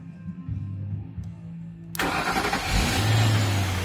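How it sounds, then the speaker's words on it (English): After a jump start, a 2012 Ford Thunderbird's engine cranks and catches with a sudden loud burst, then settles into a rough, rising idle. A faint steady hum comes first, with no talking. "Car started."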